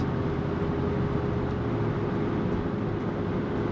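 A 1991 Chevrolet Suburban with its stock engine and exhaust cruising on the road, giving a steady low drone and rumble heard from inside the cabin, with no speech.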